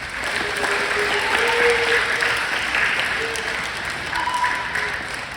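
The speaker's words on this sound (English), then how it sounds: "How about a round of applause for these talented monsters?" A crowd at a Monster Day event gives performers a steady round of applause, continuous mid-level clapping with some cheering voices and a few tonal calls rising above it.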